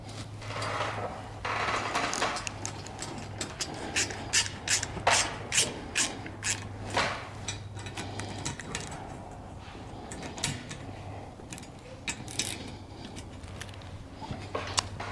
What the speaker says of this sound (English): tighten up those bolts with a 5/32 Allen wrench